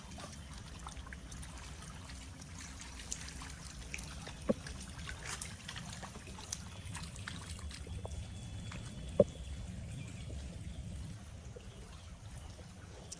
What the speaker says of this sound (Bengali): প্রচুর মাছ লাফাচ্ছে আওয়াজ শুনতে পাচ্ছ শুধু লাফাচ্ছে মাছগুলো